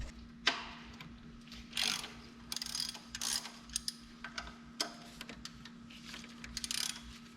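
A ratchet wrench with a 15 socket loosens alternator bolts on a Chevrolet Silverado engine, giving irregular clicking ratchet strokes close up over a faint steady hum.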